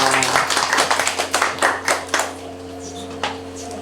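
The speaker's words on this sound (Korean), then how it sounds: "우리 하나님께 영광의 박수를 올려드리도록 하겠습니다" A church congregation at a Sunday worship service claps in unison, with distinct rhythmic beats that loosen into scattered applause and then trail off, over a sustained organ-like tone.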